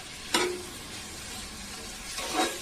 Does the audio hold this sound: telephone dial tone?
no